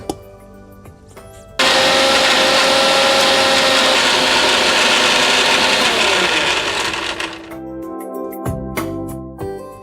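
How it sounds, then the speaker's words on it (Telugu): A mixer grinder grinding bottle gourd chutney roars loudly for several seconds, its motor whirring steadily before slowing and cutting off, followed by a few quiet clicks. "మిక్సీ పట్టేసుకుందాం"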